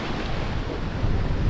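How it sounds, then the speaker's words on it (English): Big sea waves in the Bay of Biscay heard from aboard a catamaran, a continuous heavy roar of surf and water mixed with strong wind buffeting, loud and close with no talking. "I've never seen waves this big"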